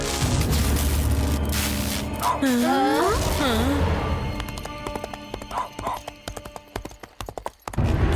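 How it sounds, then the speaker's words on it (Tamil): A cartoon horse gallops with rapid clip-clop hoofbeats and lets out a loud whinny partway through, in an animated Tamil ghost story set in a town; the hooves keep up a steady, dense rhythm and there is no talk. "திடீர்னு இந்த குதிரை ஓடுற சத்தம் நமக்கு எங்க இருந்துப்பா கேக்குது"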